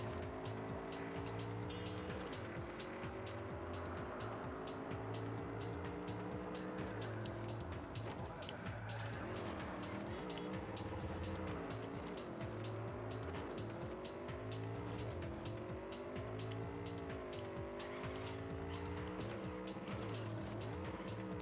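A car in Cyberpunk 2077 drives at speed, its engine droning and rising and falling in pitch through gear shifts, with tire squeals and skids over a loud continuous road roar.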